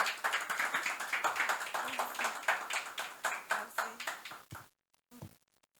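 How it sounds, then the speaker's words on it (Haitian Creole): An audience applauds a young singer at a youth stage event, a dense burst of clapping that swells and fades over several seconds before trailing off into scattered claps and near silence. "Je vous demande de le réapplaudir, s'il vous plaît."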